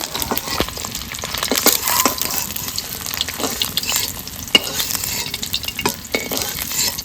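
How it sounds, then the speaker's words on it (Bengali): Whole spices (dried chilli, cinnamon, cardamom, cloves) sizzle and crackle steadily in hot oil, with scattered sharp pops and occasional scraping stirs of a spoon against the pan. "এই তেলের ভিতরে ফোড়নটা দিয়ে দেবো শুকনো লঙ্কা দারচিনি এলাচ লবঙ্গ ফাটিয়ে দিয়েছি"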